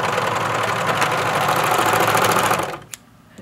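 A serger overlock sewing machine runs with a fast, steady mechanical whir for close to three seconds, then stops with a single click.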